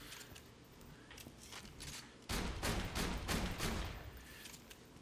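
Hyperion shotgun fire in the Borderlands 2 video game, a fast string of punchy blasts that grows denser and louder partway through, heard alone and fairly faint.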